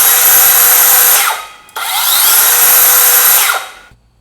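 An OSUKA OCS827 cordless circular saw runs in two loud, high-pitched whining bursts, each spinning down briefly, the second ending in a fading wind-down to quiet.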